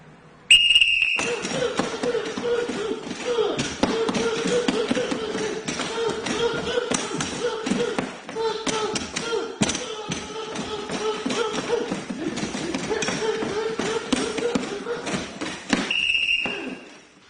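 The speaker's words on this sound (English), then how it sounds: "I'll blow the whistle once, he'll start." A coach's whistle gives a short shrill blast to start a 15-second full-bore drill, then taps, shuffles and thuds of hard training fill the gap until a second blast signals the stop.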